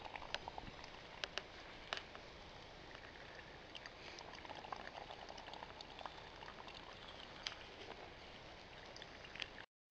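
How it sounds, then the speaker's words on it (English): Filtered water heating in a pot over an outdoor wilderness fire gives a steady, dense bubbling and crackling hiss with scattered sharp pops throughout, close and fairly quiet, with no voices. "Now the water's just put it on the fire to boil"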